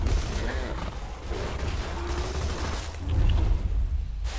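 Gunfire rattles in Borderlands 2 as muffled, dense bursts of shots and impacts crackle in a continuous, noisy barrage, louder toward the end.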